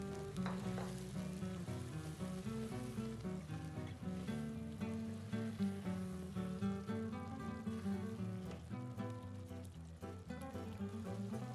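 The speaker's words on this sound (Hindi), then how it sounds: "मसाला पूरी तरह से भुन चुका है, अब इसमें उबली हुई राजमा शामिल कर देंगे और इसको मसालों के साथ अच्छी तरह से मिक्स करते हुए पकाते जाएंगे" Spice masala for rajma sizzles and fries steadily in a pan with intermittent stirring scrapes, a continuous close crackle with no talking.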